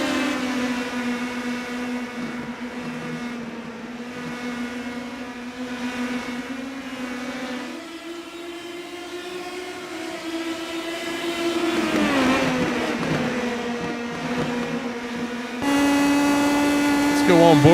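Indy Pro 2000 race cars at Indianapolis Raceway Park in iRacing, a pack of engines droning steadily and shifting pitch as they run close together, with commentary voices underneath.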